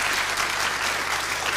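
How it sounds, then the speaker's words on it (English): Spontaneous applause from a radio panel show studio audience, a loud, even wall of clapping filling the whole stretch with no talk. "I thank our audience for that spontaneous round of applause"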